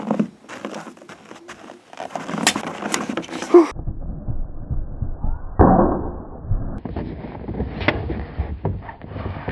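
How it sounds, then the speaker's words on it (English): Several quick swooshing whooshes of an M1913 Patton cavalry saber cutting through the air, loud and close, with a few scraping rustles between swings. "When you swing it, it makes movie sound effect sword noises every time."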